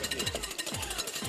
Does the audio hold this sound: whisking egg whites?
yes